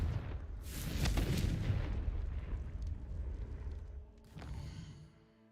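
A burst from the Confringo fire spell in Hogwarts Legacy: a loud, rumbling explosive blast that swells and slowly fades, with a second smaller boom near the end, and no talking.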